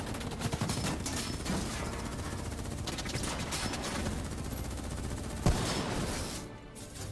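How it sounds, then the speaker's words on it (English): Sustained automatic gunfire rattles through a Black Ops 3 campaign firefight, loud and unbroken, punctuated by one sharp, heavy shot near the end before the shooting tapers off. "What the hell? Who's shooting?"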